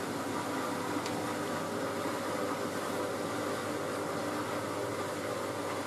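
A Miele W562 Prestige Plus 6 washing machine spinning a bathrobe load; a steady, fairly faint mechanical whir and drum hum continue evenly with no talking.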